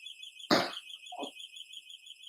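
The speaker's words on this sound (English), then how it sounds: "I got to turn my alarm on" Home security alarm sounding a steady high electronic tone throughout, with a sharp thump like a door or bump near the start and a softer knock after, no talking.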